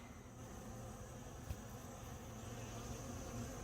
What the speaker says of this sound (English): the guard bees doing their job